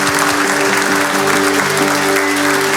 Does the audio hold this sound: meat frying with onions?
no